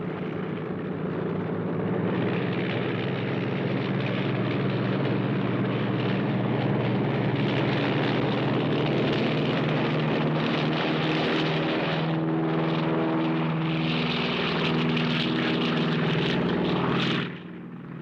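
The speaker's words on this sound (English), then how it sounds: "Pretty sloppy takeoff." A propeller airplane takes off from a runway, its engine a steady, loud, full-throated drone that holds for nearly the whole stretch and then cuts off abruptly near the end, with no talk over it.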